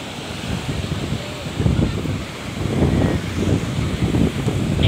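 Ocean surf at Krakal beach on a rising tide: steady, loud wave wash and rumble mixed with wind buffeting the microphone, swelling and receding continuously up close.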